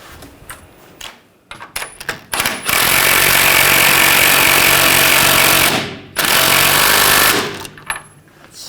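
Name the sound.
tightening ball joint nut on GMC Sierra 1500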